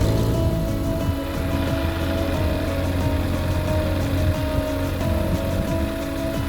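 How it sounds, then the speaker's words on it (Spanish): Engine of an ICP Savannah S ultralight aircraft idling on first start with the propeller fitted, a loud, steady, smooth droning hum with a fine rhythmic flutter throughout. "Está a ralentí, aunque parezca que la hélice no se mueve"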